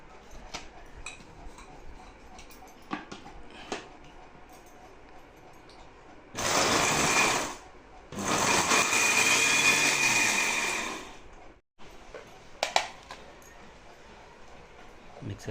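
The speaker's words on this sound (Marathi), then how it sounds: "आणि आता मिक्सरला वाटून घ्यायचं आहे" A small mixer grinder jar whirs loudly as raw mango chutney is ground in two bursts, roughly one and three seconds long, between quiet clicks and handling sounds.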